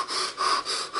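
Quick, close breaths, a few rhythmic airy inhales and exhales within about a second, demonstrated during a biology lecture on chordates with no talking over them.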